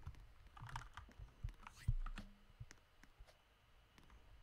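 Key clicks from a Razer Huntsman Tournament Edition gaming keyboard, a quick scatter of sharp taps with one louder thump near the middle, close and fairly quiet, with no talk over them.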